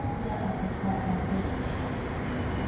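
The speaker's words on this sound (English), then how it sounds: "Here's the red train heading to Bang Su." Red line commuter train heading to Bang Sue, a steady low rumble of rail cars rolling past with a faint high whine on top, continuous and fairly close.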